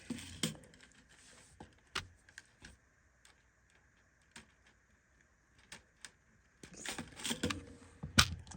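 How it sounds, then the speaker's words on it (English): Snips of 20 gauge jewelry wire being cut for chandelier earrings, a handful of sharp clicks spread out with quiet handling noise between them and a busier cluster of clicks and rustling near the end. "So I'm going to cut up just some more 20 gauge wire."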